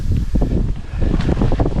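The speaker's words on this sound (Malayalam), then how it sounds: "ഇത് നല്ല കാറ്റുണ്ടേ" Strong wind blows across Pottanpadi Hill in Idukki, rumbling and gusting hard against the microphone in loud, uneven buffets.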